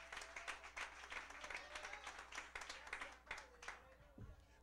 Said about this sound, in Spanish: Dale un aplauso al Padre,